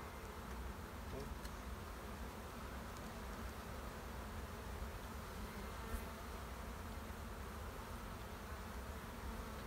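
Honey bees hum steadily around open hives outdoors, forming a dense, continuous drone with no breaks. The buzz stays fairly faint and even throughout.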